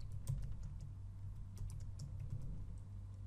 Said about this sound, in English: I've typed LEV space 19 space 12 and hit enter